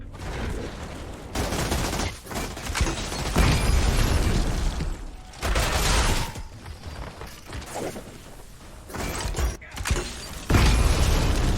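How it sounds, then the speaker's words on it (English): Combat in the video game Outriders: a thrown proximity mine from the Shrapnel skill detonates amid loud repeated gunfire, blasts and mechanical clatter, dense and continuous with no talk. "The Shrapnel skill, throw a proximity mine. The explosion deals 214 damage"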